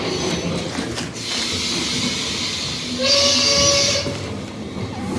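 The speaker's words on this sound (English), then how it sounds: "Have a seat and enjoy this wonderful train ride" A steam train rumbles along with a steady rolling hiss, and a bright burst of steam hisses louder partway through before easing back.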